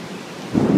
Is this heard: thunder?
yes